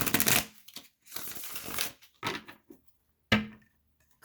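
Oracle cards being shuffled in several short bursts of riffling and rustling, close and fairly loud, with brief pauses between them and no voices.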